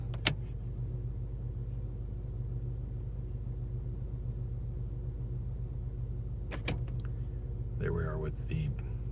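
A VW Beetle drives along a road, its engine and tyre rumble steady and low throughout at moderate level, with a few brief clicks and a short burst of voice near the end.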